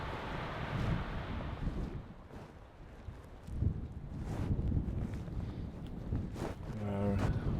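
Steady wind rushes and buffets the microphone outdoors, with gusts swelling and fading throughout.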